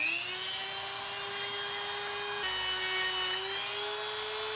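A small drill bores a hole in a steel motorcycle handlebar on a Husqvarna Vitpilen 401, with a steady high-pitched whine, a brief dip in pitch midway, and no speech.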